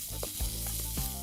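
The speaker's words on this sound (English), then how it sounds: "That's the sound of something stir frying." Chicken sizzling loudly in a hot wok while stir-frying for pad thai, a dense steady crackle and hiss with a few clanks of stirring, close and continuous.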